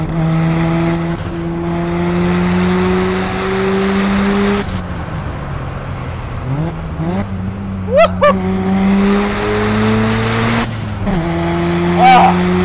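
A 417-horsepower Mazda RX-7 rotary engine wails loudly under hard acceleration from inside the cabin, climbing through gears with brief shift dips and short squeals of tire under steady engine drone.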